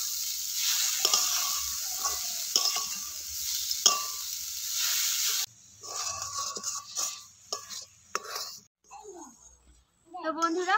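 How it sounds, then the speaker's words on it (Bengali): Sweet pitha filling cooks with sugar in a pan, first a loud steady sizzle with a few scraping stirs, then quieter scrapes and clinks of the spoon while voices speak briefly near the end. "এবার নেড়ে চেড়ে পুরটা রেডি করে নেব।"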